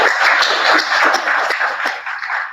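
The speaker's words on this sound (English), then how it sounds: "Please have a round of applause for that" A conference audience breaks into applause, a dense, close wash of clapping that holds steady for a couple of seconds before easing off slightly at the end.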